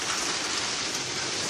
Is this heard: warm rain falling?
yes